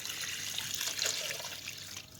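Water pours and splashes into a cooking pot of beef and potato curry (aloo gosht) with spices, a soft continuous trickle and slosh at close range, faint and steady with no voices.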